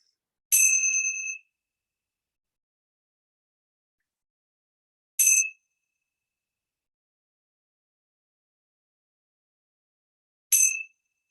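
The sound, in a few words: bell ringing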